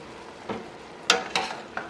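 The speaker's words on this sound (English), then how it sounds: "Quick stir" Potato pieces stirred in a pot for a chicken soup, with a soft background sizzle and a few distinct scraping strokes close by, no talking.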